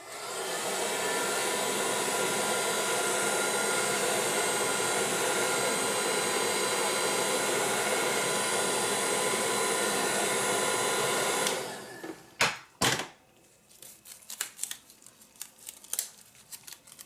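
A hair dryer blows steadily and loudly for about eleven seconds to dry a taped craft project, then cuts off, leaving a few sharp crinkling and handling noises.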